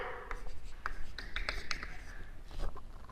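Pen or chalk scratches out handwriting during a mathematics lecture on groups and coding theory, with quick strokes and taps in an uneven rhythm, close and moderately loud over a faint room hiss.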